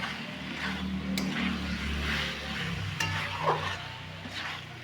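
Potatoes and soybean chunks sautéing in oil for a Bengali dalna, a soft continuous sizzle with scraping stirs and occasional light clinks of a utensil against the pan, no speech.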